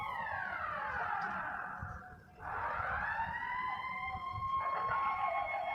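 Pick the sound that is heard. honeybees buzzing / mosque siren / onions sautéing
mosque siren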